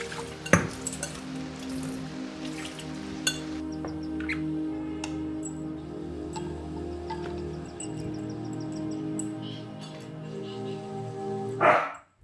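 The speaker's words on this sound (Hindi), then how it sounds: "हाथी के भौंकने के बाद आपको सुनाई देगी होगी।" A dog barks a few times, sharp and somewhat distant, over a steady low hum, with a louder bark near the end.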